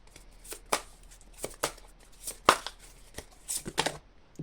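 Tarot cards are shuffled for a card reading, giving a series of close, crisp riffles and soft slaps in irregular bursts, with no talk.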